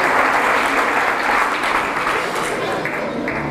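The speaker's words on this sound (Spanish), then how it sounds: "Un aplauso para Mario, el mejor guitarrista." Church congregation applauds the guitarist with full, steady clapping that tapers slightly, with a voice faintly audible beneath.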